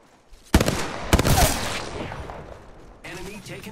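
Gunfire in a video game, two loud bursts of shots close together followed by a decaying rumble and softer game noise.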